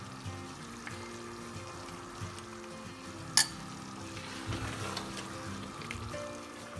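Chicken biryani gravy cooks and is stirred in a pan, giving a faint, steady low sizzle with soft scraping and one sharp clink midway, all set against a background hum.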